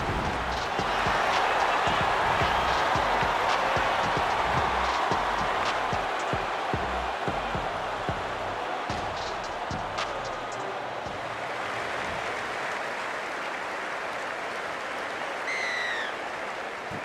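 A large rugby league stadium crowd roars and cheers at kickoff of a Super League match between Catalans Dragons and Castleford Tigers, a loud, steady wash of voices that eases slightly later on, with distant whistling near the end.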